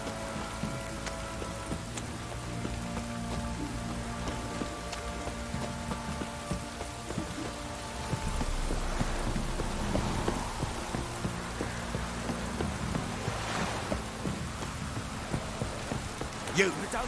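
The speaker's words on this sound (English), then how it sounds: "You! Don't stop raining, my arse will rot off." Steady rain falls in the fantasy world of The Witcher 3: Wild Hunt, a constant hiss of drops spattering on surfaces that thickens and grows louder about halfway through, with faint scattered knocks beneath.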